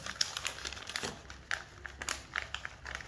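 A paper sewing pattern being folded, soft crinkling and crisp rustles in irregular bursts, close and quiet.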